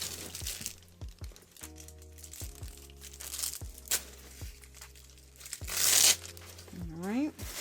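Plastic wrapping and bag stuffing from a Nine West Paulson tote crinkle and rustle close by in irregular bursts, with a louder crumpling surge near the end, while a person talks intermittently.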